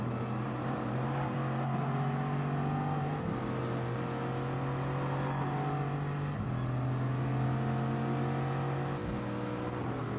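Bugatti Veyron racing in Gran Turismo Sport, a steady engine drone that climbs in pitch through the gears, with short dips at each shift, heard alone at moderate volume.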